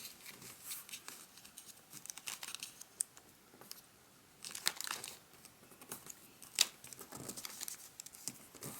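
Paper being creased and folded into an origami bull, close crinkling and rustling in irregular bursts, with sharper crisp creases near the middle and later, no voices.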